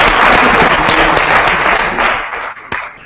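An audience bursts into loud, dense applause during a political speech, the clapping sustained and close before thinning out near the end.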